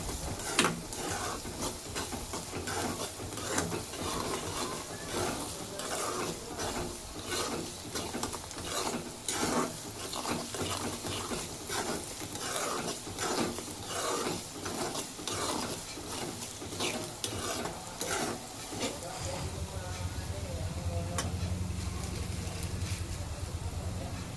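Ivy gourd frying with turmeric in a pan, a low sizzle under constant rhythmic scraping and clicking of a spatula stirring against the metal, close and busy, without voices.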